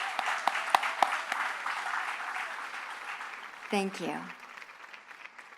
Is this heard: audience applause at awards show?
yes